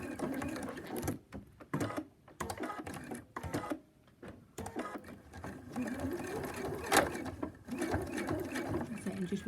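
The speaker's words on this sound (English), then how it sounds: "What I'm going to do is go back over to the sewing machine. You're just going to sew a line." A sewing machine stitching a line across the bulky folded fabric of a scrunchie runs in short bursts of rapid mechanical whirring, stopping and starting, with soft handling noises in the pauses.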